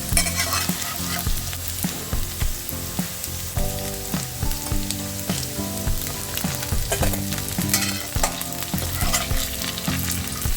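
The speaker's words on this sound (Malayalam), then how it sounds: "ഇതേപോലെ ബാക്കിയെല്ലാം ഫ്രൈ ചെയ്തെടുക്കണം." Cauliflower florets for gobi manchurian deep-frying in hot oil, a dense continuous sizzle and bubbling with frequent scrapes and clinks of a slotted spoon moving pieces about, steady and close without talk.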